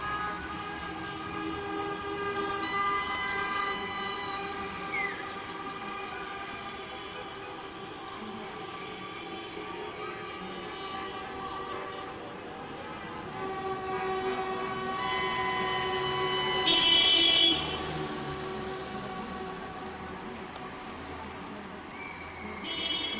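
Long sustained car horn blasts sounding at a distance over a steady street rumble at night, overlapping and swelling at times, with no talking, as cars and motorcycles honk in celebration after a football result.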